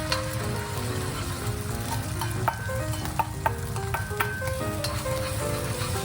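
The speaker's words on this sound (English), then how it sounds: "And I'm going to put in the egg right on top." An egg frying in butter over fried rice in a pan gives a steady, close sizzle with light stirring scrapes and faint clinks, while a melodic musical tone plays throughout in the background.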